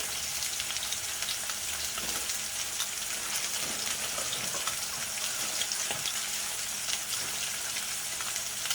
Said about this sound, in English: Once the water boiling, you just add the vegetable in.